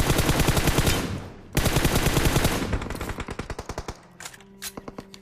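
Automatic gunfire from a battle royale video game, long loud bursts of rapid shots with a short pause, then slower spaced single shots tapering off, no voice over them.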